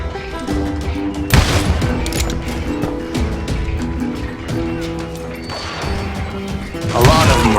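Gunshots and crashing impacts in the Call of Juarez: Gunslinger video game, loud bursts over a busy game soundtrack, with heavier blasts near the start and the end.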